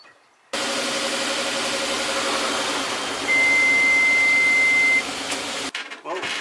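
Suzuki Escudo engine idling steadily up close during a taillight, brake and signal check, with a sustained electronic beep partway through, then a brief clatter as it ends.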